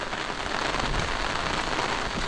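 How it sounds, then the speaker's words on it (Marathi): Steady monsoon rain pouring down in a Konkan village near Ratnagiri, a dense, continuous hiss of drops striking surfaces, loud and close with no pauses or voices. "आणि इकडे पाऊस आता सुरू झाला आहे"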